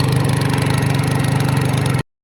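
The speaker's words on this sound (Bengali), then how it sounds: "এখন মেশিন স্টার্ট করব। মেশিনও স্টার্ট হয়ে গেছে।" A small irrigation water pump engine runs steadily in a field, a loud, close, even putter with a strong low hum that cuts off abruptly.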